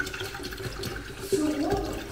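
Water poured out of a container indoors, a steady splashing pour with a brief louder gush toward the end, faint background voice.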